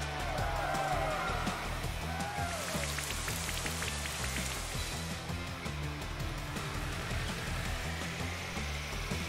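Steady rain falls throughout a Pokemon Shield battle, a constant dense patter under faint game music and effects, unbroken for the whole stretch.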